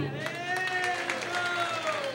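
Applause from an auditorium audience at a live stage show with music, a steady dense wash of clapping, loud and close, with a voice speaking over it.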